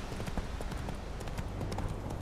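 Hooves of Roach, a horse in The Witcher 3, clip-clop in a quick, steady rhythm, close and fairly loud over a low rumble of outdoor game ambience.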